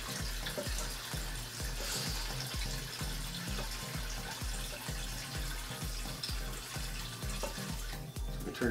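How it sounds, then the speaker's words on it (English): Tap water runs steadily while Rowa Phos phosphate-removing media is rinsed until it comes out clear, a continuous close splashing stream with small rhythmic gurgles and no voices. "So we just keep doing this until it cleans itself out when the water starts coming out nice and clear."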